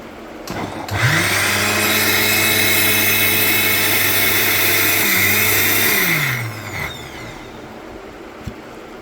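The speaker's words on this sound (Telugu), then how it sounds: "ఇలా మిక్సీ నేను ఒక 2 తిప్పులు తిప్పానండి" A mixer grinder churning homemade butter whirs loudly for about five seconds with a steady high motor whine, winding down afterward, followed by a few faint clinks.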